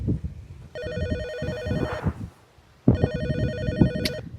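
A cellphone rings loud and close with an electronic warbling ringtone in two long bursts separated by a short pause, over background clatter and movement.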